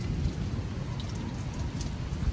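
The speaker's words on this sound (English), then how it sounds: "as you guys just heard that lightning" Heavy rain pours through a severe spring thunderstorm in West Monroe, Louisiana, a dense continuous roar with low rumbling thunder underneath, steady and close throughout without any talking.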